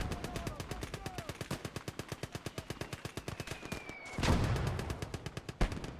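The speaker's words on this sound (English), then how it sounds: "That is counter mortar fire." Counter mortar fire in a WWII real-time strategy game: rapid, evenly spaced bursts of automatic gunfire run steadily, then a heavy blast booms in mid-clip before the firing resumes.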